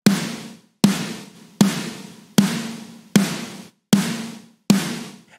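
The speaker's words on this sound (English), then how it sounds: "A gate is going to be a huge, huge benefit when you're compressing a snare this hard" Seven sharp, punchy, heavily compressed snare hits in a steady rhythm for a pop punk track, each cut off quickly into silence by a gate, loud and dry with no other sounds.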